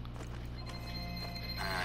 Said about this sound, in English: Can you hear the phones ringing?